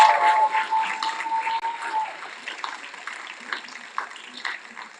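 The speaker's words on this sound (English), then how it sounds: "So I'd like to give a round of applause." An award ceremony audience applauds winners, with a soft, diffuse patter of clapping continuing throughout, partly mixed with a steady tone early on.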